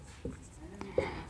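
Chalk or marker on a classroom board during a physics lecture on units and measurements, three brief scratchy taps and strokes close by, with faint room noise around them.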